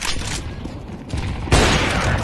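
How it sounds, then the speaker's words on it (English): A flashbang grenade goes off in a first-person shooter game, a loud burst followed by a ringing wash of noise that lingers, with no talk over it. "Flashbang."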